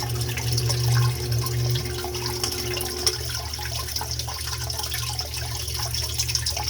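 A sump pump runs in its pit with a steady low hum beneath continuous rushing, gurgling water, the motor tone dropping out partway while the water noise carries on.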